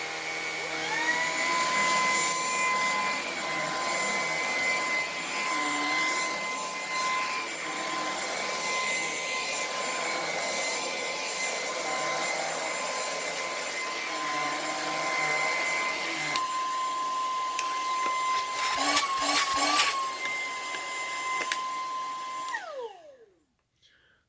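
A Lupe Pure Cordless vacuum cleaner runs steadily with a loud, high-pitched whine and airflow rush, nearby and alone, its pitch wavering briefly before the motor spins down and stops at the end.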